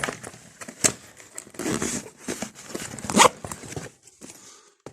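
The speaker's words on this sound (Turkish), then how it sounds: "bu bir çift bota bir dakika fermuarı çekeyim" A zipper is pulled up on one of a pair of boots, giving a series of scratchy, rasping strokes and rustles at close range, irregular in rhythm, with a sharper burst near the end and no speech.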